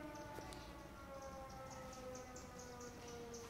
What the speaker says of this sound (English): I think the siren has ended everything on a perfect note.